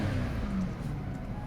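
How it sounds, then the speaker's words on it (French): A BMW 550i E60 V8 idling nearby, a steady low rumble with no revving, continuous and even for the whole short stretch. "c'est un gros moteur, donc on l'entend"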